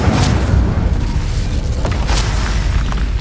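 An Incendio fire spell is cast in Hogwarts Legacy, a loud fiery boom and burst with crackling bursts layered over continuous combat noise.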